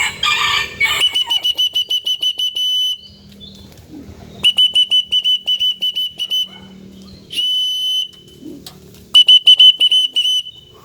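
Someone whistles to call pigeons in a loft. Sharp, loud whistles repeat in quick bursts with short pauses between them, with no talking.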